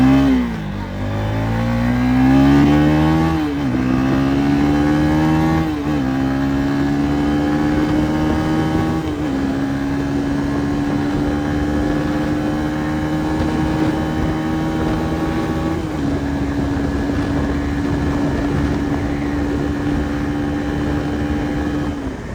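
A Lifan SR 220 motorcycle is ridden hard, its engine rising in pitch through several gears with a brief dip at each shift, loud and close, with steady engine and road noise and no voices.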